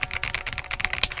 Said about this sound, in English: I'm going to go ahead and leave you guys with the stock sound test of the RoyalAxe